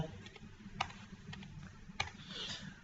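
Numbers being typed on a computer keyboard into a spreadsheet: quiet, irregular key taps with a couple of sharper clicks, close but faint, no talking.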